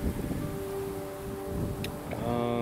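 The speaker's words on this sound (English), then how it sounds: "Boy, it's funny how it gets windy when someone tries to record." Steady wind rushes and buffets against the microphone, a low continuous roar with faint tonal hums underneath and a brief click near the end.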